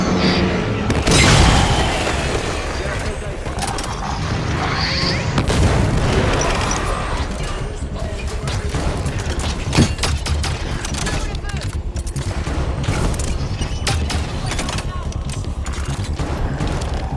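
Continuous weapon fire and booming blasts from a Halo 5: Guardians legendary campaign battle, dense and loud throughout, with rapid shot bursts layered over heavy rumbling explosions.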